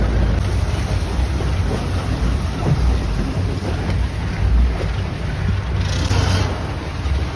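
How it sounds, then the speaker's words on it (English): Motorboat engine on a Bangkok klong, a steady loud rumble with wind and water noise running throughout, close by and without a break. "Now we can see all the motors here on the back."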